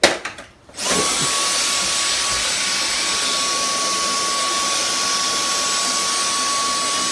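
Dyson DC44 Animal cordless vacuum cleaner switching on after a short quiet moment, then a steady loud whine and rushing airflow that holds unchanged to the end, with no talking.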